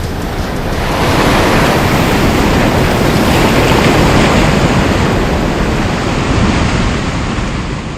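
Hawaiian waves crash straight onto a steeply sloping lava reef, a loud continuous roar of surf that swells after the first second and stays heavy, with no voices.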